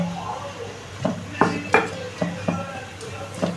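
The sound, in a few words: mixing vegetable pakora batter in a bowl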